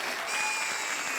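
A studio audience at the Comedy Circus comedy stage show claps in dense, steady applause that fills the whole short stretch at an even, fairly loud level, with no voices over it.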